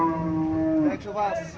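A cow at Moynamoti cattle market in Cumilla gives one loud, close, drawn-out moo that breaks off partway, followed by brief murmuring.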